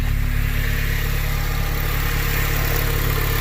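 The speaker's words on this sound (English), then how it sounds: "so when I go ahead and hit the throttle," A car engine runs close and steady, with a low rough idle hum and faint throttle blips as the pedal is pressed, sounding like it wants to stall, all alone with no talking.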